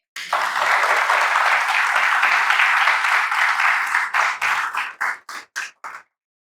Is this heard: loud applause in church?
yes